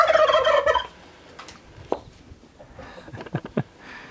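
A turkey gobbles loudly at the start, a rapid warbling burst, followed by a few scattered short calls and clucks from nearby fowl.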